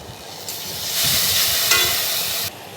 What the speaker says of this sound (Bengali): মাছগুলোকে সব কড়াই দিয়ে দিয়েছি, উল্টে পাল্টে ভেজে নিচ্ছি